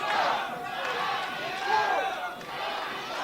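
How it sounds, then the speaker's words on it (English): Wrestling crowd at a Future Stars of Wrestling match roaring and chanting steadily throughout, a loud continuous wall of voices with swelling peaks of yelling. "And listen to the crowd."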